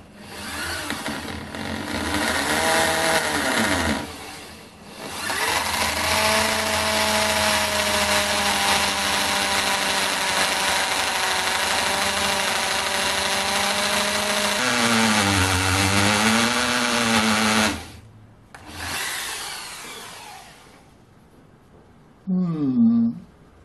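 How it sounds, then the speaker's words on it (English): A worn hammer drill with a rattling ratchet runs loudly for long stretches with a rough, rattling drone even with hammer mode off, drilling with a stepped bit, cutting out briefly, restarting, then stopping again. "even when the hammer's off it still makes a rattling noise"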